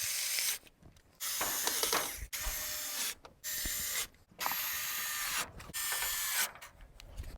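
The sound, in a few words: screws being fastened on car wiper cowl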